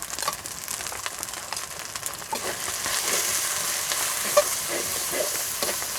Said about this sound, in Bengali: এখন আমরা এই মশলাটাকে সুন্দরভাবে কষায় নিচ্ছি বা ভেজে নিচ্ছি